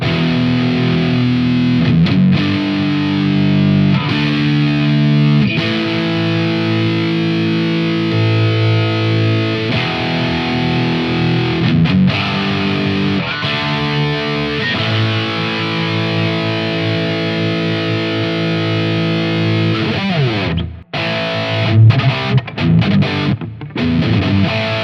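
Hils HN3 Gen 3 headless electric guitar played through heavy distortion in a metal style, loud and continuous with chugging riffs and sustained chords, a brief dropout near the end before resuming.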